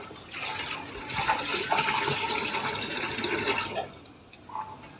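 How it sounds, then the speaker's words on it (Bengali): Soaked groundnut shell liquid being poured into a container of water, giving a steady gushing, splashing pour for about four seconds that then trails off into a few drips, with no voices. "ঘোলটা এর মধ্যে ঢেলে দিলাম"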